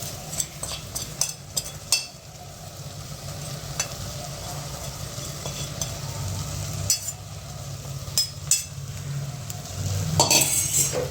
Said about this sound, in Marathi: काढले छान फ्राय होत आहेत